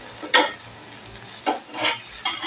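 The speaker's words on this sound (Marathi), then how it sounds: "चांगले उलट पालट करून भाजून घ्यायची व्यवस्थित." Raw potato flatbreads (dhapate) turned and roasted on a pan, with several brief scraping and sizzling bursts from the spatula over a quiet background, close and clear, no speech.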